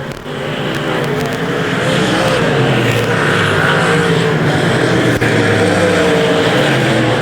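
Modified race cars roar around a dirt track in a feature race, a loud continuous engine drone with cars racing side by side, no voices heard.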